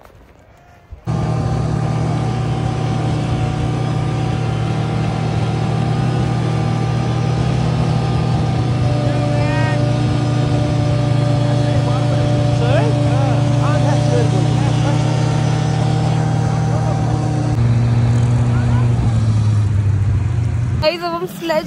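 Snowmobile engine droning steadily through a ride over Kashmir snow, a loud mid-pitched motor hum with steady harmonics that shifts slightly in pitch, running continuously with voices talking over it.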